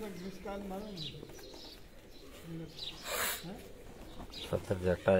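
Pigeons coo in repeated soft, throaty phrases at close range in a Kharian pigeon-keeping setting, mixed in with someone talking over them and rustling movement.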